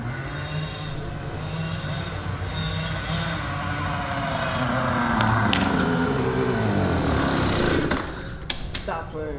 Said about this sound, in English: He's just gonna let that thing rev out.